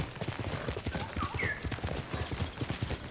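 Kage, the horse in the video game Ghost of Tsushima, gallops with rapid, steady hoofbeats up close, a faint whinny rising partway through.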